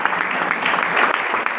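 Dense, continuous applause from a seminar audience at a Safe Shop gathering, steady and fairly loud throughout with no pause.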